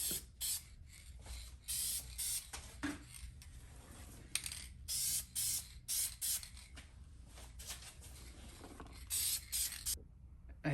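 An aerosol can sprays paint onto a part during a restoration, with repeated short hissing bursts and brief pauses between passes, close and fairly loud, plus a few faint clicks between them.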